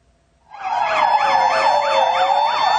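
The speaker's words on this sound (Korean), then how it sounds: "사이렌을 울리며 급하게 출동하는 소방차" A fire truck responding to an emergency in South Korean traffic wails its siren loudly after a brief quiet start, the pitch sweeping up and down in a fast, continuous cycle.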